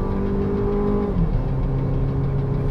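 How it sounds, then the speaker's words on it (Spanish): Jeep Commander accelerating hard at full throttle in drive, with a loud, steady engine roar from inside the car and a brief dip in pitch midway, like a gear change. "Lo primero es mostrarles la aceleración, lo pongo en drive, vamos a fondo."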